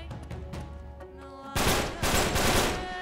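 Gunfire in Uncharted 3: Drake's Deception erupts halfway through, a loud burst of several close shots following quieter scattered sounds.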